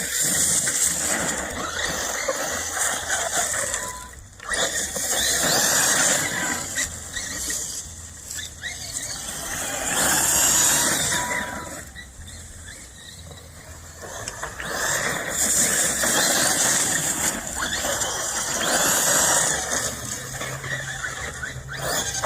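A 1/7 scale CEN Reeper RC truck with chrome wheels running around on a dusty surface outdoors, its buzzing electric drive whining and surging in waves over about twenty seconds.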